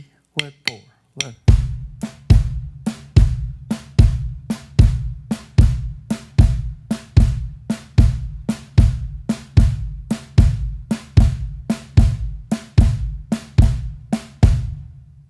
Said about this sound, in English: So now I'd like to add in the bass drum on quarter notes.